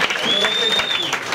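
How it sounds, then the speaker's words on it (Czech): Audience applause at an open mic night in a small club in Lovosice, a steady dense wash of clapping throughout with a high whistle rising over it and scattered crowd voices. "druhou půli začneme obrovským potleskem"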